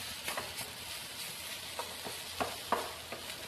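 Coriander leaves being stirred into a frying mixture in a pan, with a steady low sizzle beneath scattered soft scraping stirs and a few sharper clicks of the spoon against the pan.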